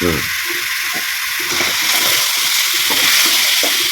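Chicken curry sautéing over a wood-fire stove makes a loud, constant close sizzle and hiss, with low clatter and faint voice-like sounds mixed beneath it.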